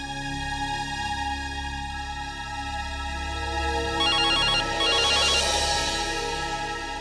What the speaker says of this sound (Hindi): लगा दूं मैं आपके लिए फोन।